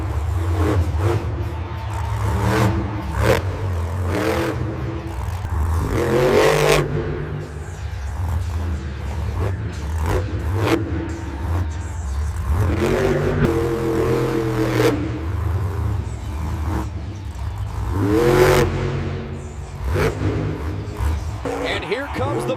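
Monster trucks rev and roar over ramps and crushed cars at a show, a continuous loud engine rumble with surging accelerations and heavy thuds, under an announcer's excited commentary.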